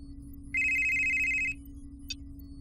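A telephone ringtone in a TV cop-show scene rings as one steady, loud electronic tone for about a second over a low hum, followed by a brief high beep.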